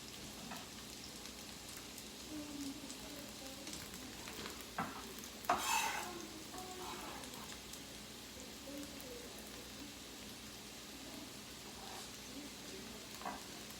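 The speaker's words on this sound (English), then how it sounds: "So let's toss everything, all of our veggies. Go ahead and toss all of them in here." Vegetables tossed into a hot pan for a rice noodle stir-fry give a quiet, steady sizzle, with a brief louder clatter of stirring about midway and no talking.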